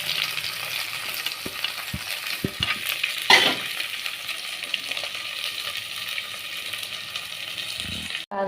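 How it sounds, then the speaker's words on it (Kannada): Curry leaves, chopped onion, tomato, green chillies, chana dal and cumin are tempered in hot oil for a vermicelli upma, giving a steady close sizzle with a few spoon clinks and stirring knocks. "ಕರಿಬೇವು ಹಾಕಿ ಒಗ್ಗರಣೆ ಮಾಡಿಕೊಳ್ಳಿ"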